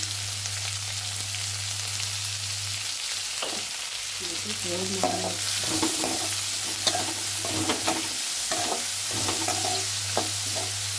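Onions sautéing with salt in a pan while making jackfruit seed fry, a constant loud sizzle with repeated spatula scrapes and clinks through the second half, alone without talk.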